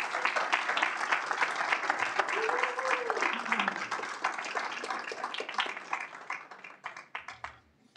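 Loud, dense applause from a large crowd, sustained for several seconds before tapering off into scattered claps near the end.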